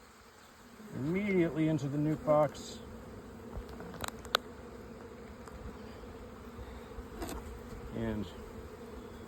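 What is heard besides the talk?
honey bees buzzing on a hive frame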